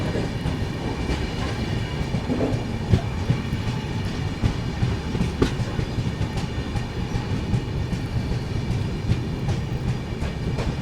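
Mandovi Express on the Konkan Railway route between Mumbai and Goa, a steady loud rumble of carriages with rhythmic wheel clatter and occasional clicks over rail joints throughout, no voices.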